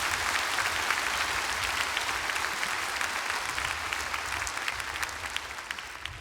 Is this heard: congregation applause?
yes